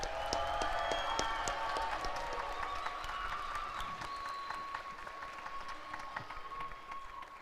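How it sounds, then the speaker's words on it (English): A graduation ceremony audience applauds the graduating class, clapping steadily with crisp individual claps audible, a sustained, somewhat distant round that slowly thins out, with a faint tone running underneath. "Can we get a round of applause real quick?"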